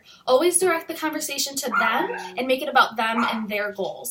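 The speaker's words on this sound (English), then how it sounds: "I'm sorry if you guys can hear my dog and the bird in the background." A dog barks and yips in the background while someone talks steadily in the foreground, the barks short and mixed under her voice.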